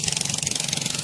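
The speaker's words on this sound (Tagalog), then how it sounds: "Maingay lang talaga yung kanyang motor." A loud motorcycle engine runs close by with a steady, fast, rattling pulse that has no pauses.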